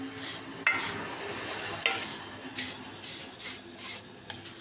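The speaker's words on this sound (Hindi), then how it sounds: "जितनी देर में मैं सेवइयों को भून रही हूँ" Vermicelli being roasted and stirred in desi ghee for sheer khurma, a soft steady scraping and rustle with faint sizzle and a couple of light spoon clicks against the pan.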